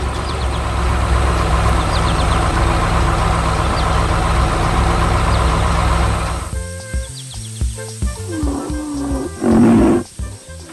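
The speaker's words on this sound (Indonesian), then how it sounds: "Traktor dan trailer sedang bekerja keras mengangkut tanaman segar yang akan dijual di pasar." A cartoon tractor in an apple orchard harvest hauls a trailer of fresh crops: a loud, steady rumbling engine drone for about six seconds, then broken, choppy engine bursts and a short roaring surge near the end.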